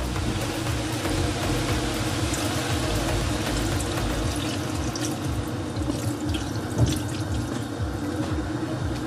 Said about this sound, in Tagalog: after that, we will be putting water